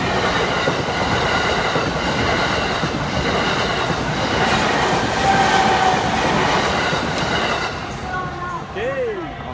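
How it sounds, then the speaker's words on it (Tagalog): A train passes a railway crossing in one continuous loud rumble with rail clatter and a thin wheel squeal. The sound eases slightly near the end, and voices can be heard faintly in the background. "Onra ni agi na ang train."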